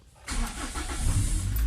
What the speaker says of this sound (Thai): จะสตาร์ทเครื่องยนต์